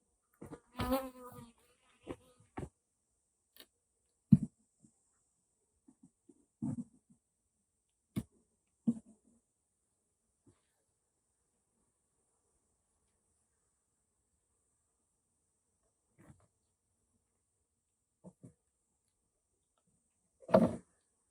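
Honey bees fly around an opened hive during an inspection, heard as scattered short buzzes as single insects pass near, separated by long stretches of near silence, faint overall, with a louder close pass at the very end.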